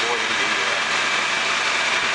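A farm tractor pulling a bumpy hayride past pumpkin fields at a Saylorsburg, Pennsylvania corn maze runs with a steady, close engine drone, with muffled voices blended into the noise.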